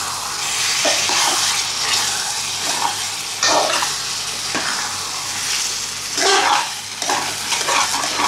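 Shrimp thokku frying in a pan is stirred with a steady, close sizzle and repeated scraping strokes that rise every second or so, with no talking.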